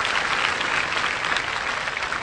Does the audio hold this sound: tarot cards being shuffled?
no